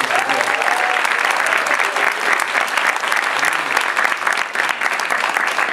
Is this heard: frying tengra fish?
no